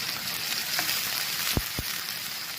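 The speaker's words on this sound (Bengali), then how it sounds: "গ্রেভি তৈরি করার জন্য হাফ কাপ সয়াবিন তেল এবং হাফ কাপ পেঁয়াজ কুচি দিয়ে দিচ্ছি" Chopped onion frying in soybean oil for a prawn malai kofta curry gravy, a steady crackling sizzle close up, punctuated by two low thumps from the pan or spoon.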